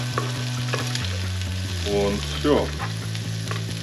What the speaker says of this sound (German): jetzt haben wir den Speck, die Zwiebeln, den Knoblauch und die Schwammerl da drin